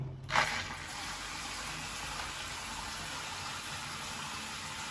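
An electric shower runs with warm water in a steady, even hiss of flowing water, after a brief louder burst at the start. The sound is close and continuous, with no voices.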